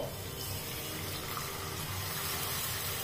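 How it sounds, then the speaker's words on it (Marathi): Milk being poured into a pot for rice kheer, a steady continuous liquid rush with no breaks, close and moderately loud. "दूध टाकतोय"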